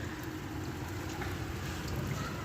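Steady rain pours down outdoors in Faisalabad, a continuous close hiss of falling water with no voices, holding an even level throughout.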